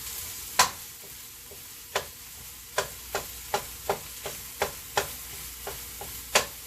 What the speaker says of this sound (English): Just breaking down my sausage in the pan.